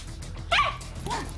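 A dog celebrating National Dog Day gives a short sharp bark followed by a softer yip, close and moderately loud, alone without talk.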